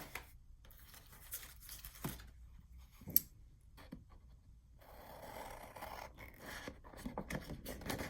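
Scissors cut a short line through paper for a 12x12 junk journal album page, heard as a few faint, close snips and light scraping in a quiet room.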